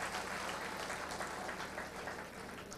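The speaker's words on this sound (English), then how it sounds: "he deserves an applause from all of you" An audience at a Durga Puja cultural event with a live singer breaks into sustained, even applause, a dense wash of clapping that continues throughout.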